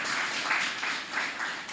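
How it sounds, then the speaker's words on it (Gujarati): A church congregation clapping together in a steady, slightly pulsing wash of applause, fairly loud and without clear speech over it. "તાળી પાડીએ આપણે હાલેલુયા."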